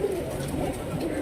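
Kaldume pigeons coo close by in a soft, low, throaty murmur over a brief moment, with a faint background hum.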